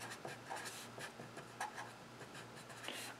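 Pen or marker writing out calculus notes on discontinuities, with short scratchy strokes in an irregular rhythm, close and fairly quiet over a steady low hum, with no talking.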